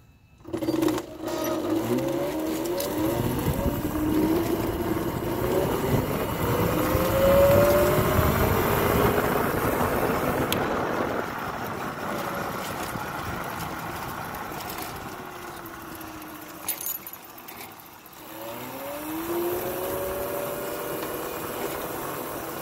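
A MotoTec Velocifero Mad 1600-watt electric scooter towing an IKEA Sladda cargo trailer while riding, with a steady motor whine rising and falling in pitch over continuous road and wind noise, dipping briefly near the end.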